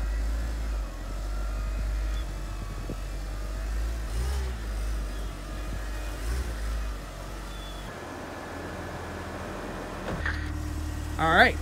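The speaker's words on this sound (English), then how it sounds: "we are gonna pull the car out" A Mitsubishi Evo is driven out of a garage, its engine idling and rumbling low and steady at close range, with a brief rev near the end and people talking in the background.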